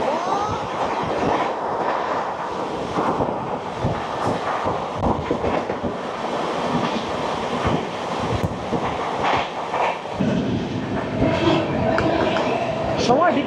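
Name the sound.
Sealdah-Bikaner Duronto Express train passing Bardhaman Junction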